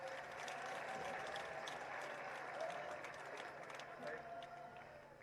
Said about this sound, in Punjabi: ਜ਼ੋਰਦਾਰ ਤਾੜੀਆਂ ਨਾਲ ਸਵਾਗਤ ਕਰੋ।